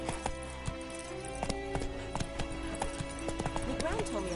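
Horse hoofbeats from The Witcher video game, a steady galloping clip-clop with occasional whinnies, layered under continuous game music and ambient sound.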